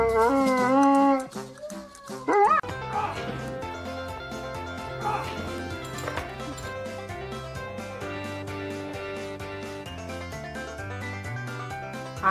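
A dog howls in long, rising and falling tones that sound almost like singing. Loud and close, with an earlier stretch of sustained notes and then continued vocalising over a steady background.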